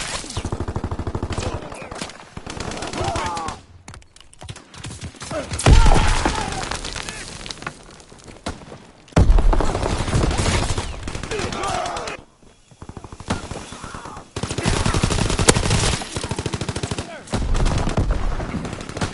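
Sustained automatic gunfire in a video game battle, long bursts of close, loud shots broken by brief pauses, with shouted in-game commands and callouts around the firing.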